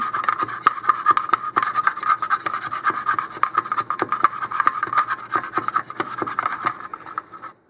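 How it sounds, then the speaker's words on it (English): A wooden dowel tamps clay down into the tip of a model rocket nose cone, making a continuous close scraping and rubbing with rapid repeated strokes at moderate volume and no voices. "you're going to need a fairly long dowel to tamp them down into the very tip of the nose cone"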